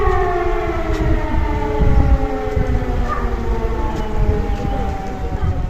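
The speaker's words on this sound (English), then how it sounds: "all of a sudden an air raid siren goes off" An air raid siren wails steadily in a village near Saarbrücken, Germany, its long rising and falling tones carrying loud and sustained over constant background rumble.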